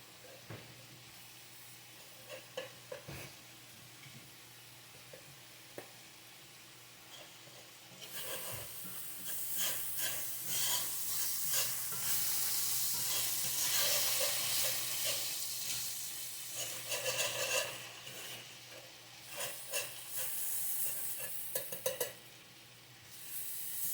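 Flour cooking down in a pan over medium-high heat while being stirred, first quiet with occasional scrapes, then swelling into a bright, sustained sizzling hiss with scraping strokes before easing off.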